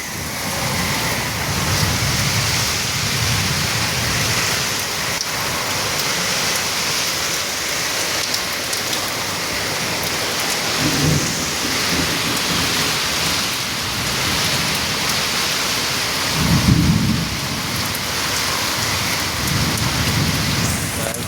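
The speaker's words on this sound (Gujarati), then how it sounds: "કલાકનો વરસાદ પડે આટલાનો." Heavy rain pounds down around two in the morning during a night thunderstorm, a steady loud roar of rainfall broken by several deep rolling thunder rumbles, including a strong one past the middle, with no speech.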